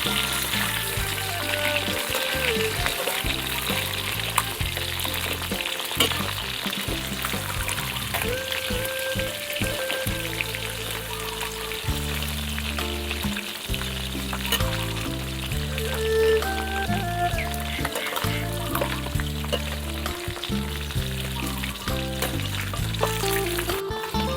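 Fish deep-frying in hot oil, a loud, dense crackling sizzle that holds steady throughout, with occasional low thumps from the pan, close up and with no voices.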